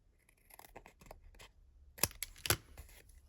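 Watercolor card paper being trimmed in crisp snips, a soft run of small cuts followed by two sharper, louder snips close to the microphone, with no voices.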